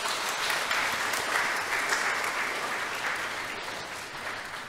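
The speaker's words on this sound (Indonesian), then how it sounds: "Kita beri tepuk tangan Bapak Ibu" Steady applause from a church congregation at a Sunday Advent service, a dense continuous patter of many hands clapping that holds evenly throughout and fades slightly toward the end, with no voices over it.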